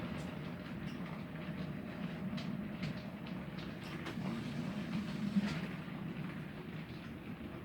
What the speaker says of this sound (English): 2 trains running